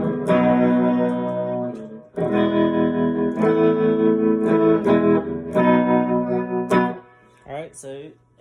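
Electric guitar chords ringing through an Oceans reverb pedal, several strummed phrases with long washy tails, loud and close, ending in a few sparser picked notes.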